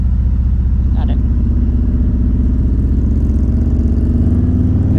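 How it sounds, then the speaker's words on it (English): A motorcycle engine pulls out of a slow first-gear corner at about 15 mph, a steady close low rumble with a rising throttle note, joined by wind noise and a brief rider's voice. "just throttle out of the corner"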